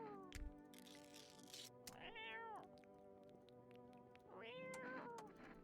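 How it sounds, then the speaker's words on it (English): A cat in a video game meows two drawn-out times, fairly loud, with short clicks and faint background tones in between and no voices. "Pet the cat."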